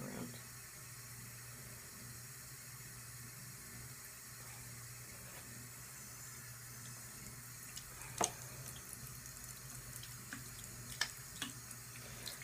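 Makeup brushes being rinsed with shampoo under a running tap, water streaming steadily into a sink with a few sharp taps and splashes near the end, heard up close and fairly quiet.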